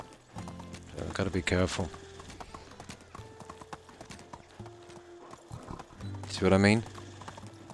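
Hooves clip-clop steadily from a galloping horse in the Medieval Dynasty video game, with a horse whinny and mechanical game sounds, while someone talks over it.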